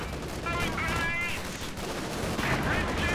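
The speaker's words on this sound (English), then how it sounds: "There you go, quick rifle grenade." Rifle grenade and gunfire in a Company of Heroes 2 battle against Panzer IV tanks and bazooka teams: constant mid-distance crackle of small-arms fire with a few tonal whines over a dense battle backdrop.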